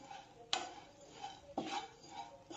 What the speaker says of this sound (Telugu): నెయ్యి హీట్ ఎక్కిన తర్వాత ఈ మ్యాగీ అంతా వేసేసుకోండి. వేసుకుని బాగా వేయించుకోవాలి